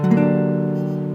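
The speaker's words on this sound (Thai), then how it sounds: "เพื่อนๆ น่าจะเคยเห็นคอร์ดที่มีเสียงประมาณนี้ครับ" One guitar chord is struck and left to ring, its tone sustaining clearly and slowly fading.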